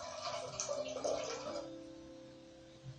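Water pours into a pot for a ginger drink, a steady splashing stream that fades out partway through, leaving a faint hum; close and fairly quiet.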